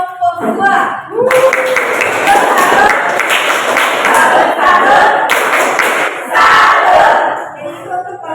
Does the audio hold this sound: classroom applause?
yes